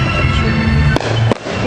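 Fireworks at a balloon festival fireworks show in Michigan, a continuous rumbling barrage of bursts with two sharp loud bangs standing out, heard up close and loud.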